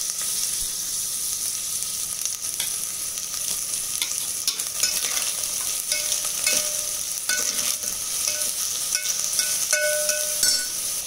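White rice with whole cloves and cardamom cooks in a hot pan, sizzling steadily as a spoon stirs and scrapes through it, with occasional small clinks over the continuous frying hiss.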